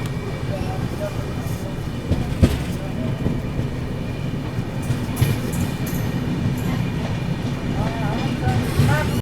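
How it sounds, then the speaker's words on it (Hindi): Kushinagar Express running, heard from inside a second AC coach: a steady rolling rumble with irregular clicks and knocks from the wheels and carriage, fairly loud and continuous, while someone talks over it. "आज इस कुशीनगर एक्सप्रेस में हम ट्रैवल करने वाले हैं इसके सेकंड AC कोच में"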